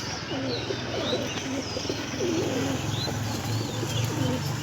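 Pigeons of the Malbai and Punjabi breeds coo repeatedly at close range in a loft, with soft wing flapping mixed into a steady, busy background.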